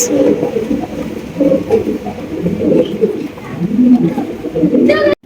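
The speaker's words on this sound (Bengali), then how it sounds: "দুইটাই কিন্তু আপনার চুইঠাল কবুতর" Chuithal pigeons coo in low, throaty rolling bursts, several close and loud calls overlapping in a steady rhythm, with bustle around them.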